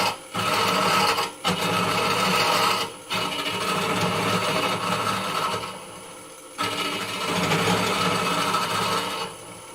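A workshop lathe runs with a loud, close, continuous mechanical whir and rattle, dropping out briefly a few times before resuming, with no voices over it.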